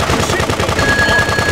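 A rapid, loud, continuous burst of machine gun fire in the classic game GTA 2, evenly spaced shots rattling close up with no voices.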